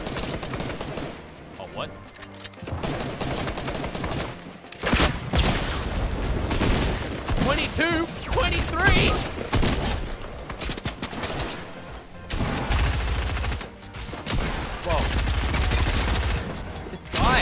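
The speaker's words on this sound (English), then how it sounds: "they're shooting at you" Rapid bursts of automatic gunfire and single shots from enemies in Fortnite Chapter 2 crackle almost without pause. The shooting is loud and dense, with short lulls between bursts, while players talk and react over it.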